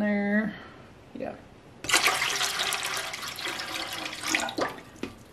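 Water pours from a container to refill a pressure canner after canning chicken wings, a rushing splashing stream that starts about two seconds in and runs loudly with gurgling surges, preceded by a voice and brief clatter.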